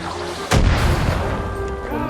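A single heavy gunshot booms in the Far Cry 5 video game, a loud, sudden close blast whose rumble lingers over steady game background noise.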